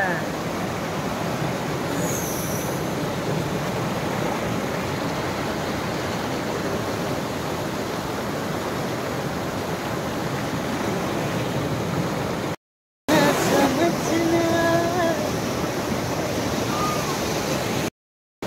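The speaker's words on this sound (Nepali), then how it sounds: "यहाँ झरना हेरिसक्नु तपाईँहरूले।" A mountain waterfall in Nepal roars with a steady, dense rush of water heard close and loud throughout, briefly cut off twice, with people's voices faintly mixed in toward the end.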